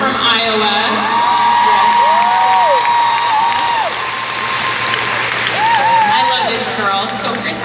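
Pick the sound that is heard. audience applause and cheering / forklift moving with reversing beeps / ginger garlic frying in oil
audience applause and cheering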